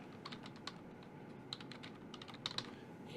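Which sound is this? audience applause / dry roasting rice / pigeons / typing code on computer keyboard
typing code on computer keyboard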